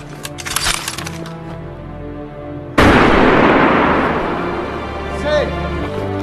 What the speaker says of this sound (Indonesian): Setelah itu mereka ditembak mati secara bergiliran.